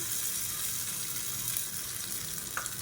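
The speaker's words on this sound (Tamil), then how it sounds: "இப்போ கடுகு, உளுந்து, கருவேப்பிலை போட்டு தாளிச்சதை கொட்டிக்கலாம்." Hot tempering of mustard seeds, urad dal and curry leaves poured into a mixed chutney makes a loud, steady crackling sizzle that fills the whole stretch, with no voices over it.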